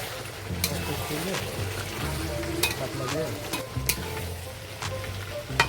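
Mutton curry stir-fried in oil in a pot, a steady close sizzle broken by repeated scraping strokes of a stirring spoon, with faint background sound underneath.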